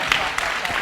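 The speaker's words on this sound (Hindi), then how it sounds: "जोरदार तालियां" An audience at a Jain philosophy lesson claps briefly in a short burst of applause, with a voice speaking over it.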